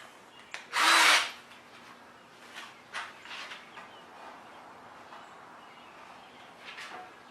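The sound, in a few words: drill chamfering screw holes in wood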